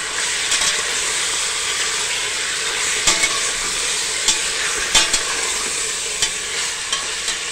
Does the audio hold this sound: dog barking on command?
no